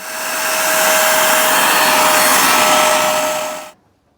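A Hoover Spotless portable carpet and upholstery cleaner runs close by while its hose is flushed, giving a loud steady motor whine with a constant tone. It cuts off sharply near the end.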